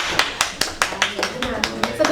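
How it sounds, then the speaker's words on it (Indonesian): Students in a classroom give a short round of applause for a classmate, heard as a series of distinct, evenly spaced claps close by, about ten in quick succession. "Boleh tepuk tangan dulu buat Arianti"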